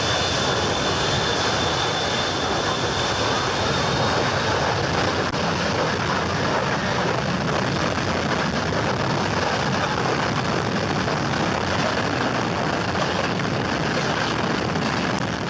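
Airplane taking off, a loud steady broadband engine roar that stays close and constant without letup, no voices.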